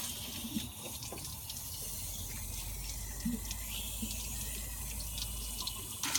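Water from a hose flushes through the disconnected heater matrix of an XR2i Fiesta, a steady, faint splashing hiss with occasional drips and no voices.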